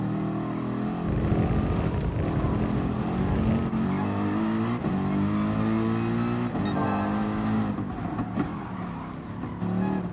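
Car engine in Gran Turismo Sport held at high revs, 80 mph in second gear, a loud continuous strained drone with rising and falling pitch sweeps and brief gear-like dips.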